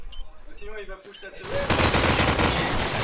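Heavy, dense burst of gunfire from a Counter-Strike match at a LAN playoff tournament, with a Desert Eagle pistol in play, erupting loudly after a short stretch of commentator talk and continuing nonstop to the end.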